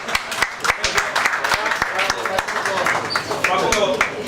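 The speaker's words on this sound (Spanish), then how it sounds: "damos un aplauso a Facundo" Audience applause for a volunteer named Facundo at a live expo talk: sharp, sometimes uneven handclaps stand out close by over a busy crowd, and talk and cheering murmur run beneath the clapping.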